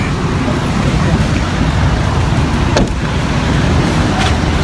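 A truck passes on a city street in Tondo at a blind corner, loud broadband rumble of traffic filling the whole stretch, steady and close, with voices faintly mixed in.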